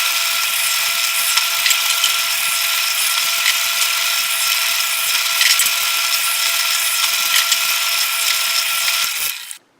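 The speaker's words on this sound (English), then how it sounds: "I've pre-drilled the holes that I will screw into the existing post just to make life easier for me." A power drill runs steadily and close for nearly ten seconds, driving a screw for an insulator mount into a pre-drilled hole in an existing fence post, then stops abruptly near the end.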